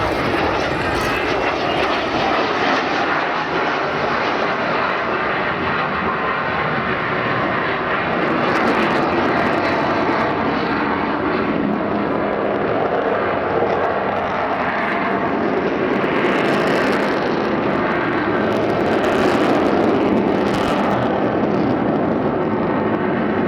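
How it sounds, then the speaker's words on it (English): The Avro Vulcan XH558 bomber flies at the Southport Airshow with a loud, continuous broadband jet engine roar, sustained throughout with slight swells as it passes. "It's a bomber, but it flies like a fighter."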